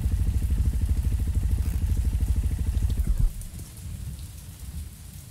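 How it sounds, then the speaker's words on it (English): Steady rain in the Mon Bazou driving game pours down loudly, then drops off sharply about three seconds in to a quieter, thinner patter. "The rain sounds different to me."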